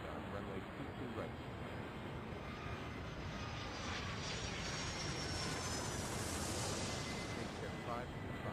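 Jet airliners in the Airport Madness 3 airport-management game take off with a continuous, loud, broadband engine roar. A faint rising whine swells in the middle of the sustained rumble.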